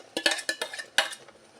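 A spoon scrapes and clinks against a pan as jackfruit halwa is stirred, making a quick run of sharp metallic taps with no voice.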